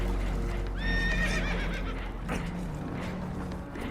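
Spooked horses on a boat taking on water in Red Dead Redemption 2 give a loud, shrill descending whinny over a constant low rumble, followed by snorts, hoof clatter and scattered thumps.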